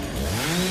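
A chainsaw engine in the film Evil Dead Rise (2023) roars loudly and continuously, its pitch rising slightly over a brief moment.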